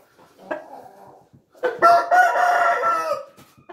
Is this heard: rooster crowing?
yes